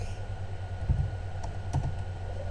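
Computer keyboard typing while entering data into a spreadsheet, several quick key taps in an irregular rhythm over a low room hum, close and moderately loud.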